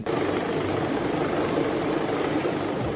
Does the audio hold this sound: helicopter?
yes